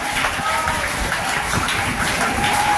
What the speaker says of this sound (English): I request all the students to give a round of applause, non-stop round of applause, non-stop